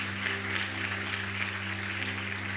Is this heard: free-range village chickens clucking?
no